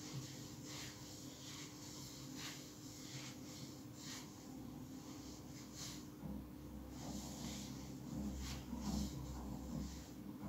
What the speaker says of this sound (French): tous ces bruits de frottement là, je les ai fait moi-même